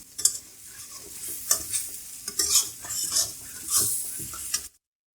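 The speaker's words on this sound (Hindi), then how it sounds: "मजीद हम इसको 1 से 2 मिनट भून लेंगे" Mutton karahi with whole and slit green chilies stir-fried in a wok, giving steady sizzling and frying with repeated scraping and clattering strokes of a spatula against the metal pan, close up and with no talk.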